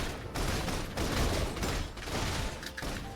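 Rapid gunfire from a gun-wielding character in the Love and Deepspace game, dense bursts of mechanical shots and clatter running almost continuously and loud, with no voices.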